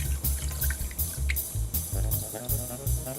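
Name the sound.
shrimp shell stock poured through a strainer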